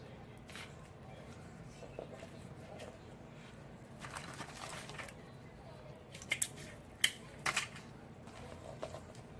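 Scissors snipping paper while assembling a handmade Christmas planner, several quiet, crisp cuts and rustles spaced irregularly in a calm room.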